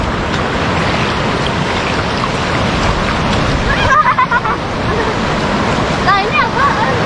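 Ocean waves roll onto the fine white sand of Pasir Putih beach at Pangandaran, a loud, constant surf roar with surges of breaking water close by, and brief background sounds over the rush.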